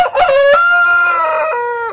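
A backyard rooster lets out one loud, close crow lasting about two seconds, rising and then holding its drawn-out final note.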